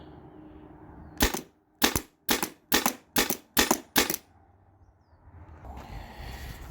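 A modified Byrna TCR launcher running on HPA or CO2 fires seven sharp, evenly spaced shots in quick succession at a target, each a loud pop. Quiet outdoor background follows.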